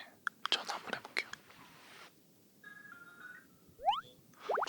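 A phone call rings out with a short, steady electronic ring tone that is close and fairly quiet, amid soft ASMR-style whispers, mouth clicks and rising chirpy tones.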